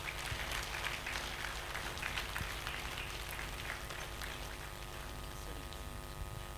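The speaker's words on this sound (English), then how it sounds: "Another round of applause, please" A large audience applauds steadily at an African First Ladies peace mission event, a dense, even wash of clapping heard from a distance over a low hum, holding at the same level throughout.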